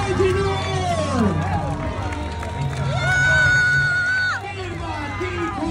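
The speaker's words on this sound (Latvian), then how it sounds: "Uztaisam aplausu arī Dmitriju Kaļakoģinu!" Crowd cheering and applauding for an MMA fighter at a club opening event in Bauska, a dense, steady roar of voices and clapping with whoops, a raised surge near the middle, loud and close throughout.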